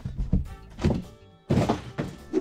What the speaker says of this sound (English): Now let's get this pesky box out of the way.